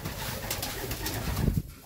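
Several racing homer pigeons coo softly and continuously nearby in a loft, their low murmuring calls overlapping with faint rustling.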